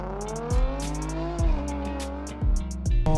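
A Bowler Land Rover Defender D110 pickup drives slowly around a compound, its engine droning steadily close by while rising and falling as it shifts gears several times.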